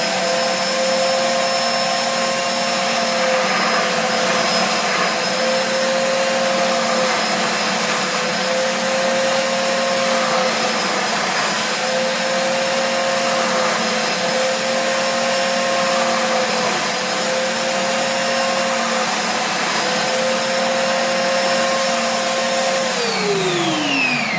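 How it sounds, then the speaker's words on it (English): A power sander smooths the snap-in cover of an oxygen concentrator with a loud, steady, high-pitched whine that holds unchanged and then winds down at the very end. "I'm going to smooth it up a little bit with the sander."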